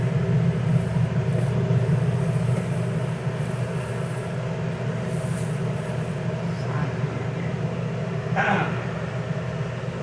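An RV air conditioner runs with a steady mechanical hum and whooshing rumble throughout, with a brief faint higher clatter near the end.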